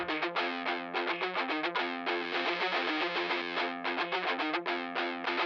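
Electric guitar plays a rhythm part on a very low-gain, lightly distorted tone with a slight chorus shimmer, steady chugging and ringing chords played alone and close.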